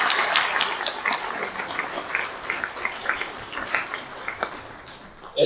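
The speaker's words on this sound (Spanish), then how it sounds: "para quien pido un fuerte aplauso" An audience applauds an emeritus researcher at a lecture: sustained clapping from a crowd fills the room and then slowly thins out.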